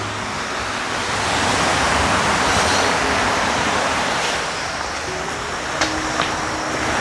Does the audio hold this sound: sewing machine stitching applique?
no